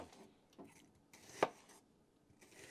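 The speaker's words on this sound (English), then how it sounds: "you're just going to cut your onion, not real thick and not real thin" A knife chops through an onion on a cutting board, with one sharp, close chop standing out among a few softer cuts in a quiet kitchen.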